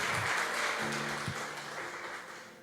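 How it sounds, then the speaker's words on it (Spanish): Applause at a church service welcoming a newcomer, a soft even patter of clapping hands that holds steady at moderate distance and slowly fades toward the end. "Démosle un aplauso al Señor por su vida"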